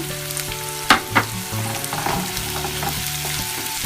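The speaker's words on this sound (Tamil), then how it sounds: "கருவேப்பிலை ஆட் பண்ணிக்கலாம் பச்சை மிளகாயும் ஆட் பண்ணிக்கோங்க" Curry leaves and green chillies sizzle in hot oil in a pan while prawn thokku is cooked, a steady close frying hiss with a couple of sharp crackles and pops near the start and no talking.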